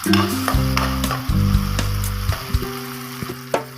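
Tomatoes frying in a pan for upma, a loud close sizzle with a ringing metallic tone from the pan and intermittent stirring knocks, settling toward the end.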